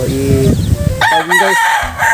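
Rooster crowing nearby among backyard chickens, one drawn-out call lifting and holding, with clucking fowl and a brief spoken word around it.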